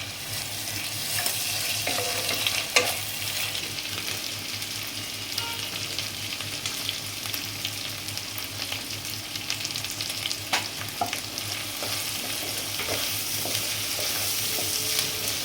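Prawns fry with ginger garlic paste in a pan, sizzling continuously while a utensil scrapes and stirs in irregular knocks and scrapes close by.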